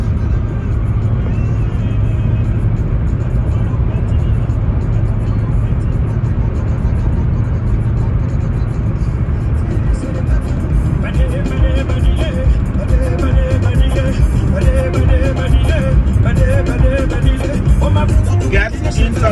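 A car cruises along US Route 295 with a steady, loud road and engine drone, tire roar constant throughout, and a voice speaks briefly over it.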